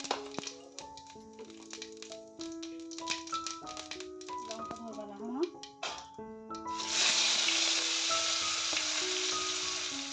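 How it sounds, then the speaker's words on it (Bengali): Chopped onion frying with cumin in mustard oil in a karahi, a loud hiss that swells after a stretch of melodic background music with clicks and taps, the sizzle then running steady and close. "পেঁয়াজটাকে এখন একটু ভেজে নেব এই তেলের মধ্যে।"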